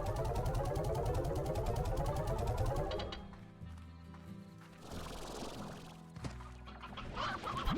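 Chickens in the video game Slime Rancher, dense clucking and fowl calls over a busy game soundscape, loud and continuous, with shifting background tones in the second half.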